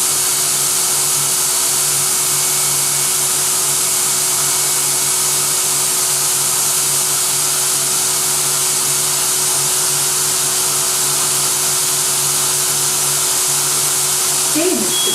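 A Versaspa automated spray tanning booth nozzle gives a loud, continuous hiss of spray with a steady mechanical hum beneath it, unbroken throughout, with faint voice instructions in the background.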